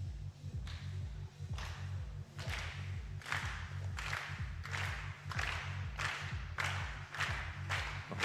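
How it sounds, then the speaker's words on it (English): A crowd at a junior women's 50m three-positions shooting final in Osijek, Croatia, claps in a steady rhythmic beat. The claps are fairly distant and even throughout, with no clear voices. "The crowd getting involved"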